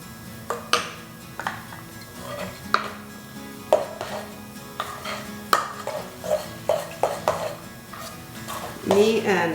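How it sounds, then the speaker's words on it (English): A utensil scrapes and knocks in a bowl of tuna salad with mustard, giving scattered clinks and taps in an uneven rhythm. The sounds are close and fairly loud, with quiet talk at times. "So I mix it up before I add in any salt or pepper."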